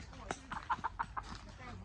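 Chickens clucking around a house by a shrimp pond, a quick run of short, close clucks over a few seconds, with a voice talking faintly in the background.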